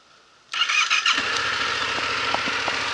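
A Yamaha MT-07 motorcycle engine cranks briefly with a starter whine and then catches, settling into a steady close idle with a low rhythmic rumble.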